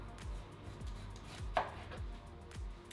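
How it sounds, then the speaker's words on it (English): A knife chops through a peeled squash in a regular series of soft, low thuds, about one every half second, with a brief sharper knock partway through. "And now we're gonna chop the squash in half so it's easier for us to start to grate"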